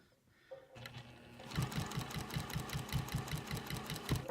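A sewing machine stitches binding onto a quilt, starting after a brief pause and running in a steady, rapid, close-up rhythm of needle strokes with small fluctuations in speed.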